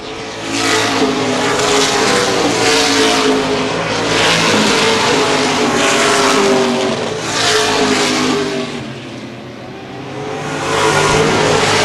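CRA Late Model Sportsman stock cars race at Baer Field Speedway in the 2013 Gold Cup 50, a pack of loud engines roaring continuously with swelling and fading passes as cars sweep by.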